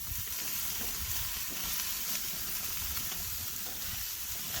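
Pieces of wild rabbit sizzle steadily in a frying pan, a constant bright crackling hiss at moderate level with no talking.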